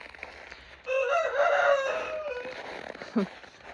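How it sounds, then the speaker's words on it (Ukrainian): Roosters crow on a farm on a frosty late-winter morning, one loud drawn-out cock-a-doodle-doo near the mic followed by a shorter fainter call, over quiet outdoor background. "півники мені допомагають"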